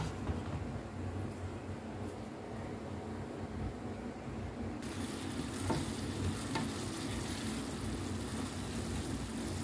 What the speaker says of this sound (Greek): Ανακατώνουμε κατά διαστήματα, έχει ακόμη